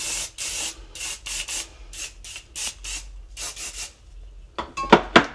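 Dove Micro Mist flexible-hold hairspray misted onto hair in a string of short hissing bursts, about a dozen quick sprays with brief gaps, close and clear, followed by a few sharper rustles at the end.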